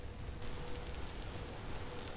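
Steady rain falls in the Vintage Story video game, a soft continuous hiss that is fairly faint, with no voices.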